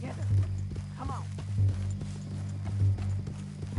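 Horse hooves clip-clop at a walk in Red Dead Redemption 2, a regular close rhythm of strikes running the whole time beneath game dialogue, with a short neigh early on.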